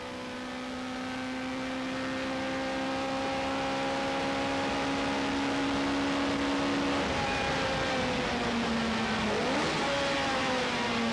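Racing cars, including a heavy saloon, drive in pouring rain at a 1989 Irish Motor Racing Club meeting in Phoenix Park, Dublin, their engines droning steadily and rising in pitch as they pass, with hiss behind them.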